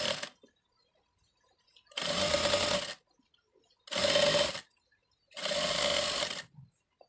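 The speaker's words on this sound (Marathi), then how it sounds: "इथे मी दाब टीप देते आहे" A sewing machine stitches a sleeve hem in three separate runs of about a second each, a loud, close whirring hum, with quiet pauses between runs.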